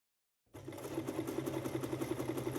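A sewing machine stitching two t-shirts together starts abruptly after a short silence, then runs at a steady, even pace with a regular mechanical whir and rhythmic needle clatter, close and alone.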